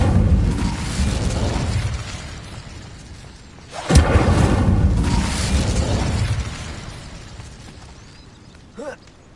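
Incendio fire spell cast in Hogwarts Legacy, a sudden whooshing burst of flame that flares loudly and then trails off under a steady game background rumble, followed by a faint short magical chime near the end.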